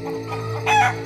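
A chicken gives a quick, close cluck at a Dayak ceremonial slaughter of pigs and chickens, a brief burst at the end of a short moment.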